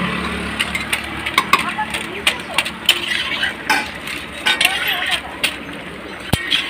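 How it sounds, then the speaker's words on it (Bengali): Meat being stirred in a cooking pot, with scraping and clinking of a utensil in irregular bursts under frequent nearby talk. "দাও তুমি মাংসটাই করো, নাড়া দাও।"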